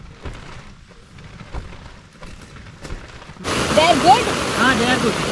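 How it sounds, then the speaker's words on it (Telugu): Rain pours down with gusting wind, starting faint and muffled, then loudly rushing and hissing close by, with scattered voices talking over it. "వర్షం పడుతుంది, గాలిదిమ్మ వచ్చినట్టు అనిపిస్తుంది."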